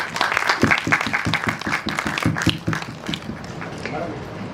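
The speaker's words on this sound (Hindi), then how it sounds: "एक बार साथ साथ तालियां भी हो जाएं।" A crowd at a school birthday celebration in Dwarka claps together in quick, dense, steady applause that fades slightly toward the end, with voices mixed in underneath.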